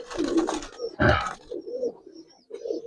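Giribaz and Army pigeons coo in low, rolling phrases close by, with a brief loud rustle near the start and quiet gaps between the calls.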